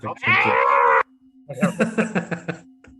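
A human voice imitates the shrieking Nazgul scream from The Lord of the Rings, starting with one long, loud, strained wail and then breaking into a run of choppy, rasping bursts, with a steady low hum underneath.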